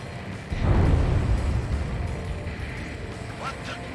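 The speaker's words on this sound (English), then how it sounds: "A huge explosion just went off underwater." A deep, rumbling underwater explosion in the Ace Combat 7 video game swells up loudly and rolls on for several seconds, a heavy low boom that slowly fades beneath the steady game soundscape.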